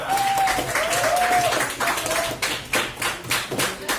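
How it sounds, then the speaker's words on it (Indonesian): A classroom of teachers or students gives a round of applause for all the presenting groups: dense, fairly loud mixed clapping with some overlapping voices and a whistle-like tone early, tapering into scattered, uneven claps toward the end. "Kita beri tepuk tangan untuk semua."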